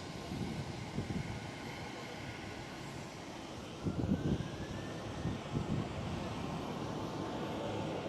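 A KLM Boeing 737 rumbles at a distance, a low steady engine roar with a faint rising whine, swelling slightly midway and holding without speech.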